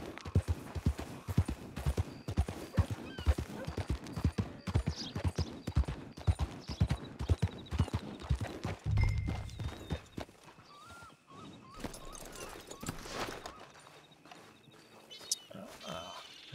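Horse hooves clip-clop in a steady rhythmic gait in the Red Dead Online video game, close and clear for about ten seconds before the hoofbeats stop and quieter ambient game sounds remain.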